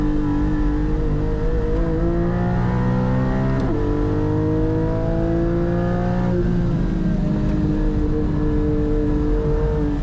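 A Porsche 718 Cayman GT4 driven hard on a race track: a loud, steady engine drone that climbs in pitch, with sharp drops at gear changes around the fourth and sixth seconds. The engine sound carries on throughout with no talk.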